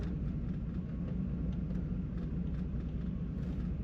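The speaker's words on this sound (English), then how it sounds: "Having a little traffic today." Road traffic passes by as a low, steady rumble of engines and tyres, moderately loud and continuous, with no voices.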